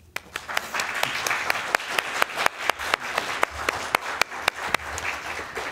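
A small audience at a local candidate forum claps: sparse, distinct, sharp hand claps against light room noise, with individual claps easy to pick out rather than a dense roar.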